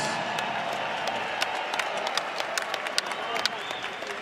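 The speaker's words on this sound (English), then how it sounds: "let's get a nice round of applause out here for both of these warriors" Applause from a boxing crowd in Frisco, Texas, after a 12-round bout, a steady dense patter of clapping with scattered louder claps, sounding like a sizable crowd at moderate distance.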